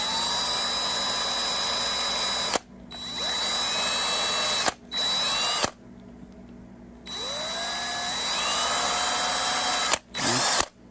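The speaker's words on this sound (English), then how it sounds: "You can literally just drill a couple of holes right in here" A power drill whines loudly in several long bursts while drilling holes in a PVC end cap, pitch rising as it spins up and stopping abruptly between runs.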